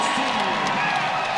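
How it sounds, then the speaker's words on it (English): Basketball crowd at Cassell Coliseum in Blacksburg during a top-10 women's game, cheering and clapping as a steady, loud wash of noise under continuous commentary. "The crowd here in Blacksburg loving what they're seeing so far."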